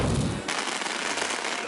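Fireworks go off in Grand Tour the Game, a loud dense crackling burst that starts abruptly and fills the clip with sustained bright popping and hiss.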